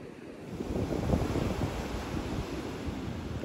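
Waves wash in steadily with a rushing roar while wind buffets the microphone, a continuous, fairly loud seaside rumble with no voices, as a thunderstorm approaches the sea.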